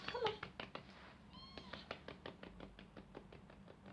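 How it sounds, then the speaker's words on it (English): A pet cat meows intermittently close by, short rising cries interrupting over several seconds, with tapping or light knocking sounds and a brief human voice at the start. "I've got a cat who doesn't want to participate."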